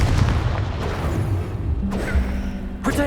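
Confringo fire-blast spell explosions in the Hogwarts Legacy video game: a loud, continuous booming blast with a dense rumble throughout, close and forceful.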